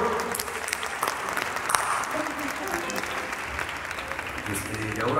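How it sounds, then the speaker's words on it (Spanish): Audience applause for Mario Zamora at an acoustic concert, a steady wash of clapping lasting several seconds with some voices mixed in. "un aplauso para Mario."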